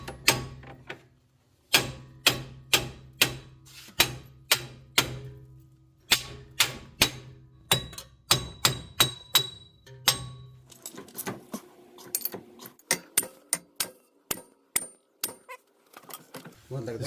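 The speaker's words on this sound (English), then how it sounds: "just give a good whack, hammer it up" Repeated sharp metallic hammer blows on a Toyota RAV4 wheel hub ring out in bursts, loud and close, with shorter quicker clanks and clinks toward the end.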